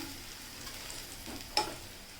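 Turmeric stirred into garlic and chili frying in a pan for a pumpkin sabzi, a faint, steady sizzle with a single sharp scrape or clink of the spoon partway through.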